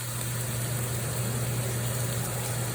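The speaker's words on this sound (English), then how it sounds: "I'm going to turn the vent on just a little bit so if you hear that." A kitchen vent fan runs on a low setting beside a George Foreman grill cooking barbecue chicken, giving a steady, even whir with a constant low hum throughout and no voices.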